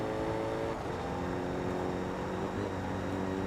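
Steady engine drone from a race car in the Forza Motorsport 2 racing game, a sustained, fairly loud tone with slight shifts in pitch, playing alone without talk.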